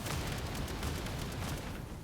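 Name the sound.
explosions fired beneath flying character, The First Descendant video game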